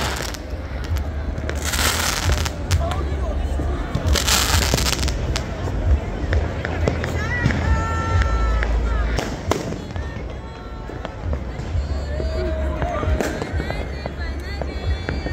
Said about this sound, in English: It's a Roman candle. You hold it in your hand,